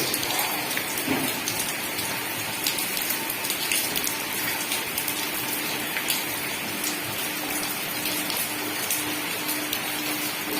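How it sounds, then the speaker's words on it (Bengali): Heavy rain pours down steadily outdoors among garden plants, a dense continuous hiss of drops with scattered louder patters and no speech. "প্রচণ্ড বৃষ্টি হচ্ছে,"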